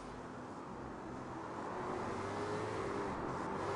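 Race car engine of a TTL McLaren in a Grand Am racing video game, a steady droning roar that swells slightly louder partway through, with faint rising engine whine, no voices.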